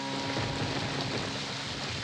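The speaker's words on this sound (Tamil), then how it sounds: "மழை வருதுல்ல" Rain falling steadily, a dense, even hiss of drops at moderate volume that continues throughout with no voices.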